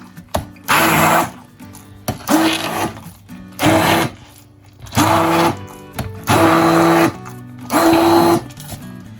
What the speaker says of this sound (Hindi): आप जिस मर्जी ब्लेंडर के साथ ब्लेंड करें।